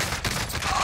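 Gunfire in the battle-royale shooter Warzone, a dense burst of rapid shots packed into under a second, loud and close with no talk over it.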